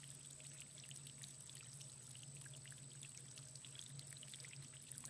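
Soft flowing water pouring and trickling steadily, faint and continuous with a light gurgle, no voices.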